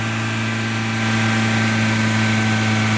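A small car engine idles on its own after a Sea Foam fuel treatment, a loud, steady close-up hum with a constant low drone and no speech.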